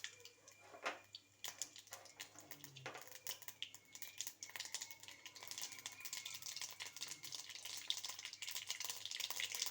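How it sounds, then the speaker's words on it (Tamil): Mustard seeds splutter in hot oil in a village kitchen, a quiet run of rapid crackles and pops that grows denser and busier over time. "கடுகு நல்லா பொரிஞ்சு வந்ததுன்னு"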